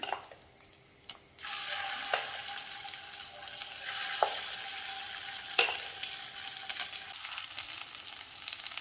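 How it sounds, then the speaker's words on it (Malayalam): Chicken pieces for chilli chicken fry in hot oil with a steady, dense sizzle, broken by a few clicks and scrapes as pieces are stirred and lifted out. "ബാക്കി ചിക്കനും ഇതുപോലെ വറുത്തെടുക്കാം."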